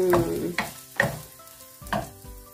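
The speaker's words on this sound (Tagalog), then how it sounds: "Inilagay na ang sibuyas." Onions for goulash fry in a pan, heard as a sizzling hiss with four distinct stirring scrapes spaced about half a second apart, close and fairly loud.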